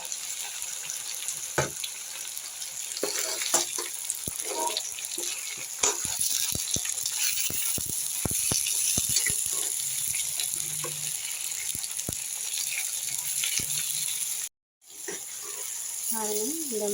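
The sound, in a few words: eggplant frying in oil in a pan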